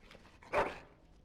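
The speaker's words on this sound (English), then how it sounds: "Bloody dog." A single dog bark in the video game Dragon Age Origins, one short sharp yelp at moderate volume followed by quiet ambience.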